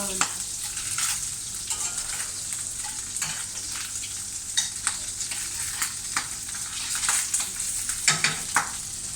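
Food stirred in sizzling butter in a pan, a steady close frying crackle with scattered scraping stir clicks throughout, no voices.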